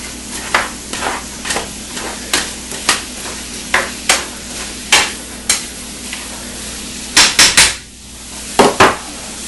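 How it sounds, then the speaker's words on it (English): A utensil scrapes and knocks around a cooking pot of caramel apple topping in a steady series of short strokes, with a few louder clanks near the end and a faint sizzle beneath. "Stir it once more so it doesn't stick or heat up too much on the bottoms"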